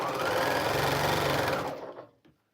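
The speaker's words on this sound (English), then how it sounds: "let me sew up this" A sewing machine runs steadily, stitching fabric for a quilt with a rapid, even mechanical whir, close and fairly loud, before winding down and stopping near the end.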